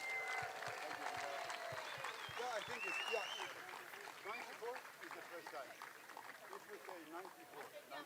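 Audience applause on a tennis court at the Giorgio Armani Tennis Classic, honouring four tennis legends; a dense, steady patter of clapping that is moderately loud throughout, with a voice talking over it at the start.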